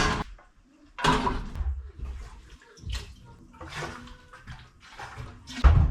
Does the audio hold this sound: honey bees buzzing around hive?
no